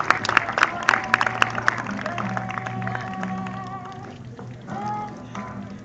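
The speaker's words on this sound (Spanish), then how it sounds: "Fuerte el aplauso" Group applause at a campfire at a Catholic altar-server camp, lively clapping near the start that fades under sustained voices and sung or shouted tones from the gathered crowd.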